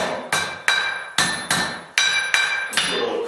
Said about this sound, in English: So on this piece, I'm hammering out a little tip,